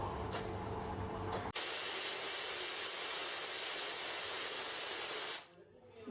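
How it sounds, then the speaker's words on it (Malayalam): A pressure cooker cooking Kuttanadan-style duck curry lets out a loud, steady whistling hiss of steam, sustained for about four seconds at close range before cutting off abruptly, with faint kitchen sounds before and after. "ഇതിപ്പോൾ 4 വിസിൽ കേട്ടിട്ടുണ്ട്."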